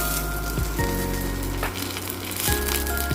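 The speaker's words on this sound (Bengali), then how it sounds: "তো ভালো করে মচমচা করে আমি কাঁচকলাটা ভেজে নিচ্ছি" Green plantain frying crisp in hot oil in a pan, a steady dense sizzle with faint crackles and a few brief clatters of a utensil, close and continuous with no talking.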